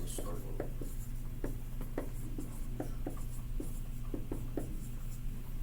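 A pen or pencil scratching on paper while filling in a blank, in short strokes and taps over a steady background hum, close up with no voices.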